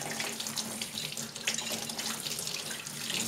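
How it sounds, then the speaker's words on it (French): A paint spray gun being rinsed under a running tap, water gushing and splashing continuously, close and fairly loud, without speech. "Le pistolet, même chose. On le rince comme il faut."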